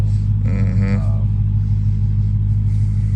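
A 2018 Dodge Charger Hellcat's deep, steady exhaust rumble drones throughout, loud and close, with a brief voice murmuring over it early on.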